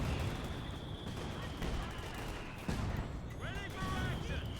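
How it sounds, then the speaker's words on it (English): Mortar and small-arms fire in a Company of Heroes 2 match between Wehrmacht and British and US forces, dense crackling gunfire with booming impacts running throughout, a sharp burst near the middle and game effects layered over it. "Bit of mortar fire, bit of Scot fire."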